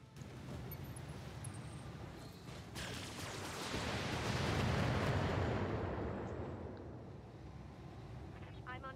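Heavy weapons fire in the BattleTech mech combat game, a dense rumbling barrage of booms and blasts that swells to a loud peak midway before easing, with a voice speaking over it.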